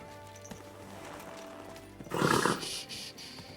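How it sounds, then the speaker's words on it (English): A horse in the medieval game Kingdom Come: Deliverance II lets out a loud, breathy neigh after a quiet stretch with faint clip-clop steps, the whinny trailing off into snorts. "Easy, good horse."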